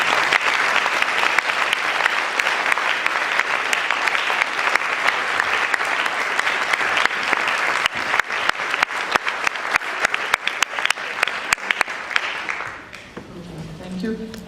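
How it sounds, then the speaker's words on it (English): Sustained audience applause at the closing of the CAAD Futures 2015 conference, a dense steady wash of clapping from a large crowd that thins and fades out near the end as talk resumes. "I would like to have an applause for them."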